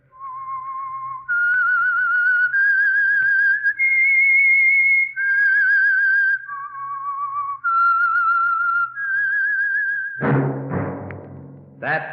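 A lone whistler carries a slow, wavering tune of long held notes, near and steady, ending with a brief burst of music: the whistled theme tune of the radio drama The Whistler.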